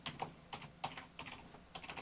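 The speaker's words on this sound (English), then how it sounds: "You can hear it typing." Rapid clicking of computer keyboard keys as someone types to log into an account, with irregular clusters of close, crisp keystrokes throughout and no voices.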